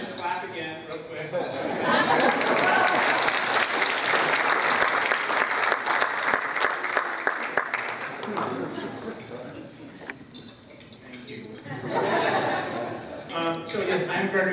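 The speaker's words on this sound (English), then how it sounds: "just clap again real quick." A Rotary club audience claps steadily for several seconds, fades with scattered chatter and chuckles, then a second short burst of applause follows.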